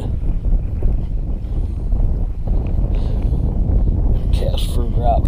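Strong wind buffets the microphone during a kayak fishing trip, a steady low roar and rumble throughout, with a brief faint voice near the end.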